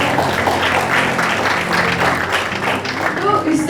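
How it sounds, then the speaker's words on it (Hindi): Loud, dense applause from the audience at a book inauguration ceremony, a thick steady wash of many hands clapping with some voices mixed in throughout. "तो फिर एक बार उसके लिए जोरदार तालियां"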